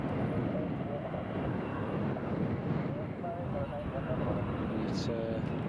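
EasyJet Switzerland airliner arriving from Geneva at Newcastle Airport, a steady broad jet roar held at a moderate distance with a faint tonal whine near the end, voices talking over it throughout.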